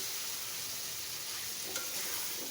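Pumpkin pieces stir-frying in a spice masala with tomato for a shrimp dish, giving a steady, even sizzle throughout with a faint scrape near the end and no talking.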